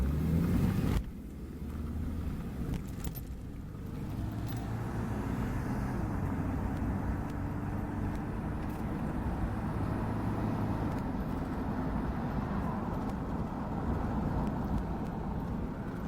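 A 1991 Ford Explorer being driven through its gears, a steady low engine drone and road rumble heard from inside the cabin with subtle pitch changes as it shifts, after a brief louder opening moment.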